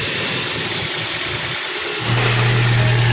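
A car engine idles after a fresh oil change, a steady low hum that settles into a smoother, louder, even drone partway through.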